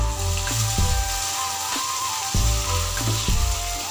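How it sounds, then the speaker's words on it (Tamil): Onions and mint leaves sautéing in a pan for a chicken biryani, a steady sizzle broken by repeated knocks and scrapes of a spoon against the pan. "வெங்காயத்தை நல்லா கொஞ்சம் வதங்கட்டும்."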